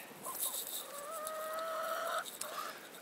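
Backyard chickens in suburban housing cluck and call, with one drawn-out tonal call standing out in the middle amid softer chatter, fairly faint and without speech.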